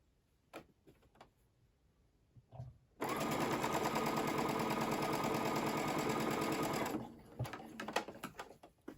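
A sewing machine stitches a quarter-inch quilt seam for a beginner quilt block, running in one steady, loud burst of about four seconds. Soft handling clicks come before and after it.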